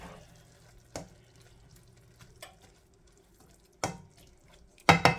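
Egg roll in a bowl mixture being stirred in a pan, with a few sparse, close spoon scrapes and clatters against the pan, ending in a quick cluster of louder knocks and no talk.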